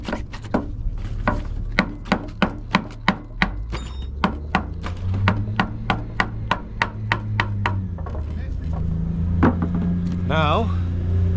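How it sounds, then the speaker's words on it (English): A small hammer taps repeatedly at a stuck screw on a wooden deck, a long series of sharp, close, evenly spaced knocks that slow and thin out, while a person talks over part of it. "so I'm just tap it off with the little hammer here"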